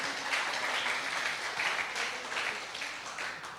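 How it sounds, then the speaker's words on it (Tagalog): A church congregation applauds during a sermon, a fairly loud wash of many hands clapping together with some sharper individual claps, fading slightly toward the end. "Yung palakpak na buhay."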